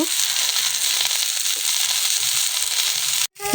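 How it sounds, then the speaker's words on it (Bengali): Cauliflower frying in leftover oil in a wok, a steady dense crackling sizzle running close and loud throughout, with a brief break near the end. "কড়াইয়ে যেটুকু তেল ছিল সেই তেলে ফুলকপিগুলোকে দিয়ে ভালো করে ভেজে নেব"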